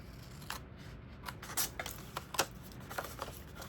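Scissors snip through paper in a quick, irregular series of sharp clicks, close and fairly quiet, with no voices.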